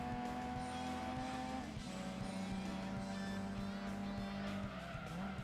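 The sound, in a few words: car tyres scrubbing at high speed in video game Gran Turismo 2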